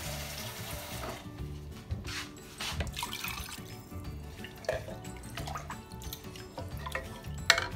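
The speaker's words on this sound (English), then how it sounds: "We're going to add water." Water pours into a pressure cooker holding dal for dal palak, trickling and splashing with drips and gurgles over several seconds at close range.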